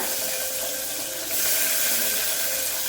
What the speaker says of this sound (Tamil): ஐம்பது சின்ன வெங்காயம் நல்லா தண்ணியில் அலசி வடிகட்டி